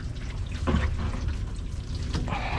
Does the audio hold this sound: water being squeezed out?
yes